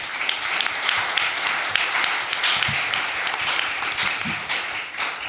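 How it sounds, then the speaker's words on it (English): A conference audience gives the panelists a round of applause after a discussion, steady and fairly full clapping from a room of people that runs throughout without letting up. "I want a big round of applause for all our panelists"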